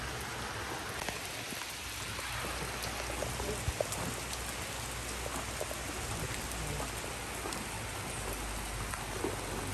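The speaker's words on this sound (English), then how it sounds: "it's decided to rain" Steady rain pours down at Chiang Mai Zoo, a dense continuous hiss of drops hitting surfaces that holds an even level throughout with no voices.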